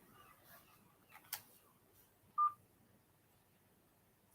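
A single brief telephone keypad tone beeps once while dialing a council call line, amid faint quiet background, with no talking.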